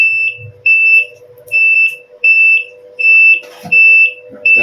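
Flood warning buzzer alarm on a dam water-level monitoring setup, sounding a series of about eight short, loud, high-pitched beeps in a steady rhythm, with a few faint clicks and rustles between them.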